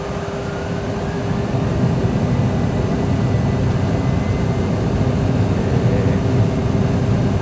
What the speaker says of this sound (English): Stabilize, set takeoff thrust.